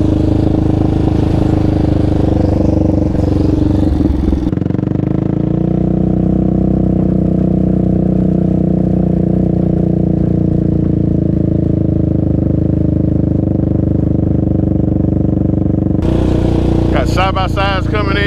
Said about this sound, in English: Side-by-sides coming in.